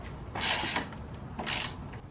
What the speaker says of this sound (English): And just come back to the top and tighten it back up.